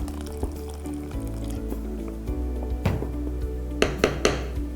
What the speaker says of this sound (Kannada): ಇನ್ನೊಂದು ಸ್ವಲ್ಪ ನೀರು ಹಾಕಿ